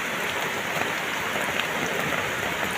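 Steady rain falls and patters evenly on surfaces nearby, a dense continuous hiss that stays at the same level throughout, with no voices.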